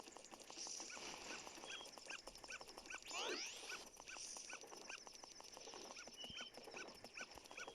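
Dog whimpering in the video game Majora's Mask 3D on the 3DS, a series of short, high whines repeating over a steady, busy game soundscape with music, close and moderately loud.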